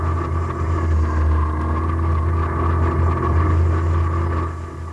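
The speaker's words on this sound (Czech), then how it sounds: "To auto je hlučný, já se radši oddálím." A noisy car engine in the Roblox game Refinery Caves, heard as a steady, loud low rumble that holds evenly throughout and eases slightly at the end, with no talk over it.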